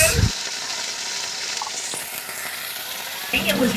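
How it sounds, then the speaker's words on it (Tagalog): Sardines get stirred in a hot pan, with a constant loud sizzle, a brief scrape of the utensil at the start and another near the end, and no speech heard. "Ato nang halukay na para di siya masunog."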